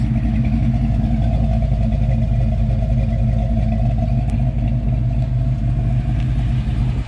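A 1985 Chevrolet C10 Silverado with a 383 stroker V8 runs steadily nearby, a loud continuous low rumble with no distinct revs, and no one speaks over it.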